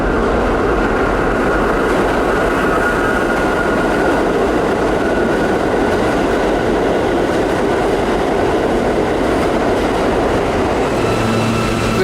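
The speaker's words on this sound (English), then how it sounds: "Here comes an express" An express subway train roars through a four-track underground station, its loud, steady rumble and rail clatter filling the platform without pause.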